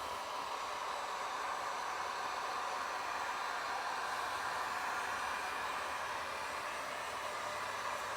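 A heat gun blows a steady, loud, even roar of hot air across a bendable board for side-table work, the whooshing hiss continuous and unchanging throughout with no talk over it.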